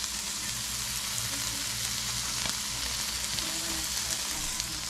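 Canned meat browns on medium heat in a frying pan, giving a loud, steady sizzle and crackle that runs the whole time with no talking.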